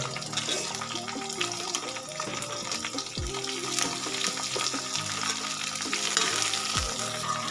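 Garlic cloves and thickly sliced onions frying in oil, a continuous close sizzle with light crackling and occasional stirring, no talking.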